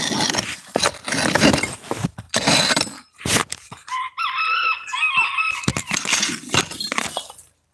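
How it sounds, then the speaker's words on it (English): A rooster crows loud and near with a rising, wavering call, set between clinks and scrapes of hot bricks being dug out with a shovel and pickaxe. "The rooster said good morning."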